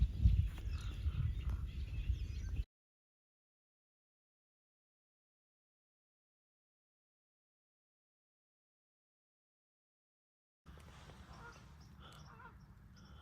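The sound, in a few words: birds arriving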